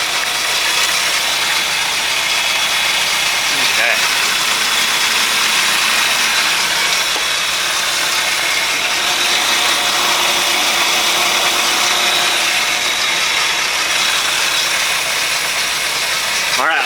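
A 1995 Mariah Talaria boat engine idles with the engine compartment open, a loud, steady mechanical churn with broadband clatter and hiss that holds constant throughout, heard up close.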